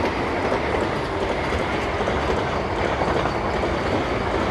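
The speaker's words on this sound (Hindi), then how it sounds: "ये थी दिल्ली अमृतसर वंदे भारत एक्सप्रेस" Delhi–Amritsar Vande Bharat Express rushing past close by, a dense, steady roar of wheels and rushing air with faint clatter, loud and continuous throughout with no voices.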